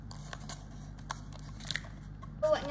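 Scissors snip through leftover paper while making a cereal-themed paper squishy, a few quiet, irregular cuts and crinkles close by over a low steady background hum.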